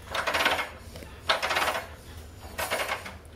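A spun wheel on a Can-Am Renegade XMR 1000R ATV with a faulty Torq Locker and Visco-Lok differential, in two-wheel drive, gives three short bursts of metallic clattering and grinding, each lasting under a second with brief pauses between.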